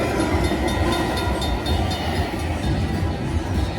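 Steady train-like rumble with clickety rail texture from a mini train bonus round on a casino slot machine, continuous and fairly loud throughout.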